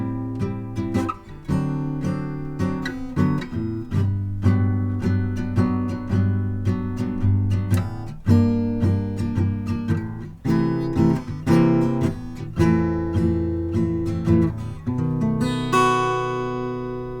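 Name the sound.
guitar playing the bridge of a song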